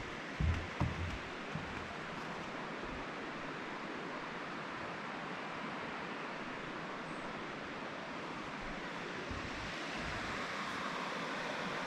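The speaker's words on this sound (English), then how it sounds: "There's a bridge over Spectrum Creek." Spectrum Creek in Canada flows near a footbridge with a soft, even hiss of moving water, faint and distant, with a few light thumps at the start.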